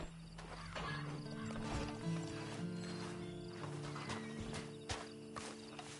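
A horse in Red Dead Redemption 2 gives a neigh amid clopping hooves and outdoor ambience, with the game's steady background tones underneath, no speech.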